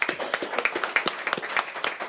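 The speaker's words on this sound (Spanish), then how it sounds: "Un aplauso para Más Parrilla." A live studio crowd claps in a quick burst, brisk overlapping hand claps close to the microphone, fairly loud and continuous throughout.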